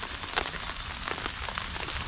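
Steady rain falls outdoors during a spring turkey hunt in Pennsylvania, a dense, even patter and hiss with scattered closer drops tapping on nearby surfaces, and no voices.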